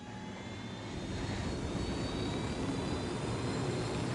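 A helicopter in the video game Ghost Recon Wildlands drones with a steady, dense engine rumble and rotor roar, constant and close, with no talking.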